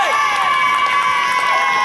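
Crowd cheering at a live wrestling show: a loud, steady roar of shouts, whistles and cheers filling the venue throughout.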